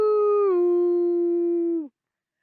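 A captive wolf in a snowy winter setting lets out a single clear, sustained howl that drops slightly in pitch and then cuts off after about two seconds, heard alone and close.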